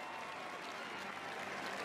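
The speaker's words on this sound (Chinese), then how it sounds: "也迎来了现场大量的欢呼声。" Dense crowd cheering and applause fill an arena at a world short track speed skating championship men's 1500m final, greeting Canadian home skater Pascal Dion; a steady, loud wash of noise without a break.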